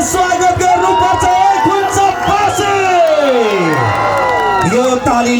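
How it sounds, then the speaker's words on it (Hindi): Crowd at a stage show welcoming a Tharu singer, loud cheering, whoops and shouts from many people, with a voice over a microphone carrying through the noise. "यो तालीले पुगेन यो हल्लाले पुगेन"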